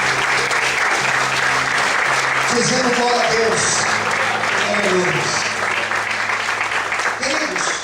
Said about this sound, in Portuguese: aplaude o Senhor nessa noite